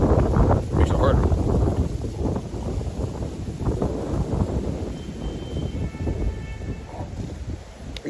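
Wind blowing up the north side of a mountain, a steady, rough gusting roar buffeting close against the microphone, with faint brief tones drifting in partway through.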